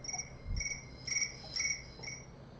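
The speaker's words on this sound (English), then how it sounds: "Let's go with crickets." Crickets chirping in a recorded soundscape played as background ambience, steady pulsing chirps repeating about every half second at moderate level with no talk.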